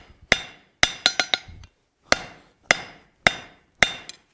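A hammer strikes hot steel on an anvil while forging a latch, ringing blows landing singly and in quick clusters, about nine sharp metallic hits with pauses between, close and loud.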